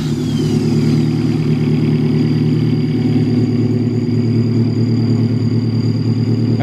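A car engine, from a Nissan S14 being weighed against an AE86, revs steadily and loudly at close range with a constant droning hum and a slow, smooth rise and fall in pitch throughout.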